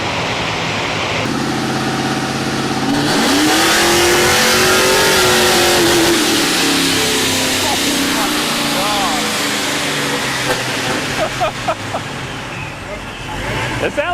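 A procharged 2002 Pontiac Trans Am revs on a dyno. The engine climbs into a loud, sustained high-RPM howl with a rising whine, then settles back over a dense roar while people talk in the background.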